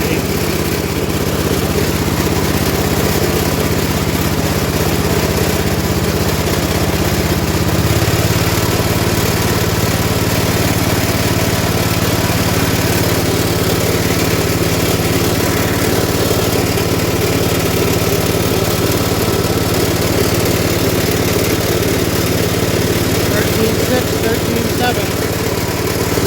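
A 1967 Gravely 430 tractor engine runs steadily at throttle, a loud, close, continuous drone whose low hum shifts pitch slightly about eight seconds in, then holds even to the end.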